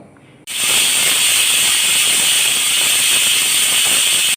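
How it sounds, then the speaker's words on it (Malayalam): A pressure cooker full of chickpeas cuts in with a loud, steady steam hiss after a quiet half second, holding strong and unbroken close by before stopping abruptly. "പിന്നെയും കുക്കർ വെച്ച് അടച്ച് ഒരു ആറേഴ് വിസിലടിക്കട്ടെ കടല വേവണ്ടേ"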